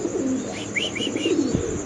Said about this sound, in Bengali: ফিরোজ ভাইয়ের হাতে আছে এক জোড়া কবুতর